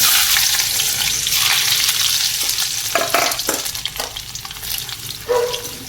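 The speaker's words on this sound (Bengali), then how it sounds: "তেলটা খুব ভালো করে গরম হয়ে গেছে এবার দিয়ে দেবো রসুন ফোড়ন" Garlic tempering hits very hot oil in a kadai, producing a loud, continuous close sizzle with scattered scraping stirs and spatters throughout.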